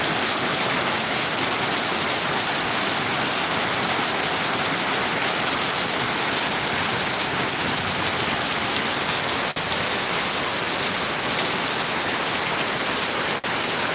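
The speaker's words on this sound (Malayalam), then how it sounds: "കൊല്ലം ഏകദേശം എല്ലാ സൈഡിലും നല്ല മഴയെന്നാണ് അറിയാൻ കഴിഞ്ഞത്" Heavy rain pours down in a dense, unbroken roar for the whole stretch, loud and close, with no voices.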